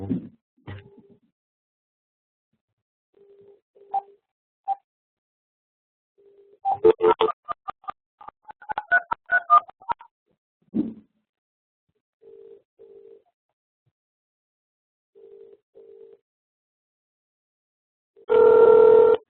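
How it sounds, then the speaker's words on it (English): A phone call plays through a computer: dialing beeps, a series of short ringback tones spaced a few seconds apart, and a loud, sustained tone at the end. Scattered clicks and brief blips sit between them, with no voices. "I'm again calling Mahesh."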